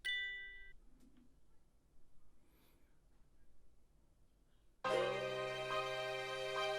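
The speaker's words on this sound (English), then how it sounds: "These bells were giving me trouble." Faint tinkling chime notes ring out, then a bright, sustained layer of bell tones swells in loudly and holds steady until the end.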